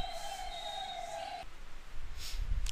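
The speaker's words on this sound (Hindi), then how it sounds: "निकल जान दो एम्बुलेंस पहले।" An ambulance siren wails steadily in the distance as it passes during a chemistry class, a sustained tone that cuts off partway and gives way to low traffic rumble.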